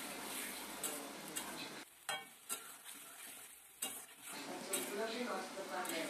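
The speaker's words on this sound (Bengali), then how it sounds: "এই দেখো মাছটা দিয়ে এবার এইভাবে ভালো করে নাড়াচাড়া দিতে হবে।" Lote fish being stirred in a sizzling pan of chili-powdered curry, with a steady frying hiss and scraping strokes of the spoon, broken by a couple of brief quieter pauses, heard close up.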